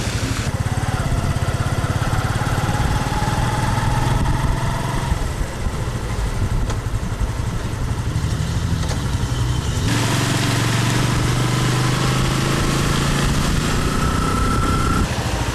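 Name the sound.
motorcycle engine riding off-road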